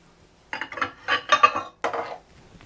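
Small oval ironstone serving dishes clinking and knocking together as they are taken out in a kitchen, a series of close ceramic clatters in bursts with short pauses.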